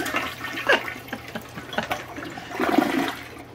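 A toilet flushes with a truck rock light dunked in the bowl, a close, rushing swirl of water that rises again toward the end.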